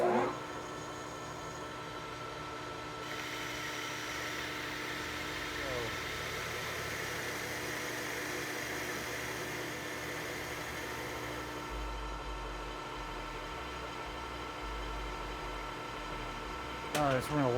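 A metal lathe takes heavy cuts on the outer diameter of a vintage C clamp, giving a steady, close mechanical hum with a constant whine that runs unbroken, ending in a few sharp clicks.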